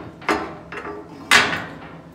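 An arm pulls a cable to spread the two doors of an old squeeze chute, giving a few sharp metallic clanks and scrapes with a short rattle between them, close by.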